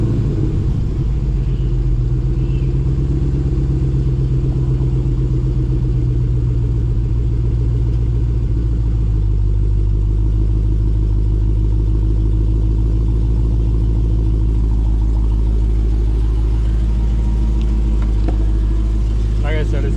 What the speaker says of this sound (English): let's see a cold start